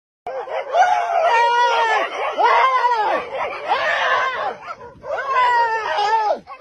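A dog barks repeatedly, loud and close, in quick yelping bursts with short gaps, as it chases someone, with faint human sounds mixed in.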